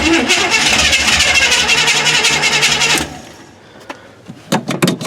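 Engine of a 1979 Chevy K20 pickup with a manual choke cranking and roaring loudly for about three seconds, then cutting out to near quiet, followed by a few sharp clanks and knocks.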